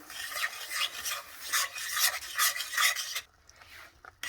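Sweet potato paste for a sugar-free halwa cooked in hot ghee, stirred with rhythmic rasping scrapes of a spoon against the pan, close and steady before stopping abruptly near the end.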